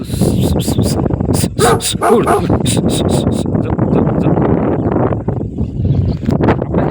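A dog barks repeatedly in sharp, close bursts, some rising into yips, over a steady background rumble with no clear speech.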